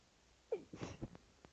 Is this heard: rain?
no